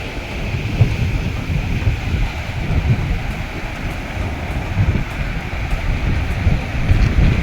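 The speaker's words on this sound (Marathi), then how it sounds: "पाण्याचा धबधबा बघा कसं चालला एकदम मस्त" Water cascading and spraying at a wastewater treatment plant beside Bapu bridge in Nashik, heard as a steady broadband rushing roar with some wind buffeting and no voices.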